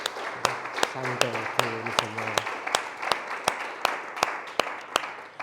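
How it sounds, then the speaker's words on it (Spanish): A church congregation claps in a steady, even rhythm of sharp beats while a voice sings along over the clapping. "Voy a darle un fuerte aplauso a Cristo Jesús"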